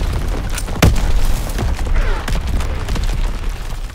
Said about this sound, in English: About to throw a grenade.